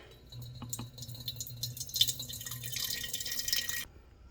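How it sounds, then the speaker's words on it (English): Dandelion tea pours steadily into a glass jar, a trickling, splashing stream that grows brighter and fuller before stopping abruptly. "And then we will pour our dandelion tea into our jar."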